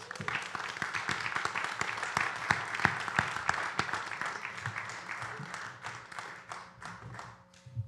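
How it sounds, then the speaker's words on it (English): Steady applause from a crowd at a voting rights mass meeting, dense clapping that carries on throughout and tapers slightly toward the end. "let's give her a round of applause"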